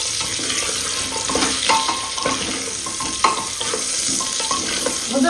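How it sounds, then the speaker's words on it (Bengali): Goat meat seasoned with salt and turmeric is stirred and lightly fried in a pan, giving a steady, loud sizzle broken by scraping stirs throughout. "এবার ভালো করে নাড়া দিয়ে একটু হালকা করে ভেজে নেবো"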